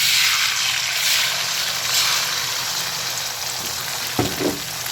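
Egg sizzles in a hot frying pan for an eggplant omelette, a loud, steady hiss close up, with a couple of sharp clatters from the pan near the end.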